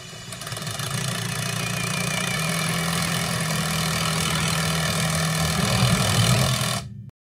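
A Ryobi compact drill/driver runs under load during a torque test, giving a steady, loud motor drone for about seven seconds before cutting off abruptly.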